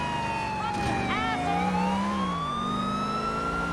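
Police car siren from GTA IV, wailing with sweeping pitch glides that warble and bend oddly, heard over game engine rumble and other traffic noise throughout.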